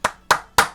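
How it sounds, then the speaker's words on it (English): Three sharp, evenly spaced hand claps, close and crisp, each with a quick decay, quiet between them. "A big clap for me there."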